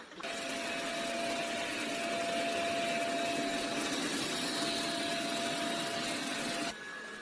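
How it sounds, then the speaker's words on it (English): A Dreame L20 Ultra robot vacuum mop cleans carpet with a steady, continuous motor whir and a faint tonal hum, close and unbroken, stopping just before the end. "the robot behaves really intelligently to clean properly on the carpet"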